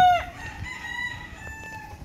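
A rooster crows once nearby, a sharp rising call that quickly fades, followed by quiet background rustling and faint clucking.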